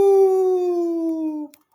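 A human voice imitates a long werewolf-like howl for the cartoon dog Scooby-Doo on a playground: one loud, sustained tone that slowly falls in pitch for about a second and a half, then stops abruptly into silence.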